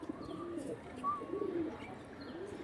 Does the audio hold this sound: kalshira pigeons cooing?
yes